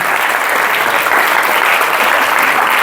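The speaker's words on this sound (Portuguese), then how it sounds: "Eu vou pedir uma salva de palmas" Loud, dense applause from a lecture audience welcoming a professor, a continuous wash of many clapping hands filling the room with no voices on top.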